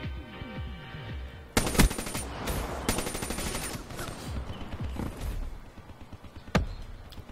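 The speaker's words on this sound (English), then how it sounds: "Somebody's just firing off shots" Multiplayer Call of Duty: Black Ops 3 gunfire comes as quick bursts of shots and a few sharp single cracks over busy game noise, moderately loud, with no talking.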